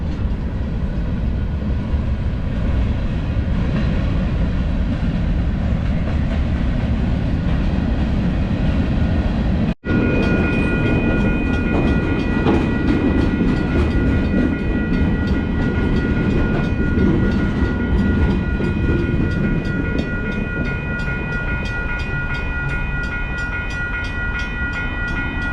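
A loud train passes close by, a heavy continuous rumble with rail clatter and a faint high whine, sustained from start to finish.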